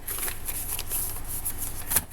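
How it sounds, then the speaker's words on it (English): Cash bills being stuffed into an envelope, a close papery rustling and crinkling that shuffles on and off throughout, with a slightly louder crisp rustle near the end. "I'm just stuffing that into this envelope"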